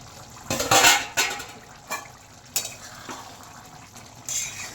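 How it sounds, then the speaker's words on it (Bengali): Lid lifted off a pot of mixed vegetable paneer curry: a few separate metallic clanks and scrapes of lid and utensils against the pot, close by, with a faint simmer between them and no talk. "ঢাকনাটা খুলে দেখে নিচ্ছি তরকারিটা হয়েছে কিনা"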